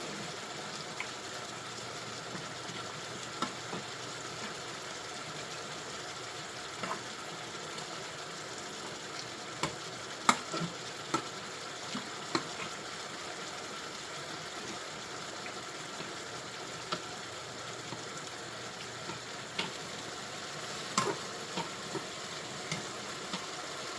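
Mongolian ground beef noodles fry in a pan over low heat, giving a steady soft sizzle with faint scattered clicks and scrapes of stirring throughout, no voices.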